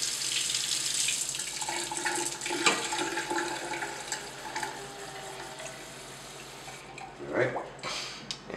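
Tap water running and splashing into a container, measured out as 250 milliliters for mixing powder photographic developer, a steady close wash that swells and trails off near the end.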